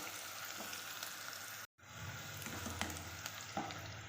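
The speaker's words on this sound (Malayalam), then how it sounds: "ഇതൊക്കെ ബ്രൗൺ നിറമാണ് വരെ നമുക്കൊന്ന് വഴറ്റിയെടുത്തിട്ട് അത് കോരിയെടുക്കാം" Ingredients for prawn biryani saute in a pan toward brown with a steady, fairly faint sizzle and soft stirring knocks, briefly cut to silence midway before the frying resumes, no voices.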